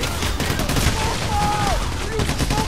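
Assault rifle fire in the heist shooter game Payday: The Heist, a dense busy stretch of shooting with faint whistling tones in the mix, steady and loud throughout.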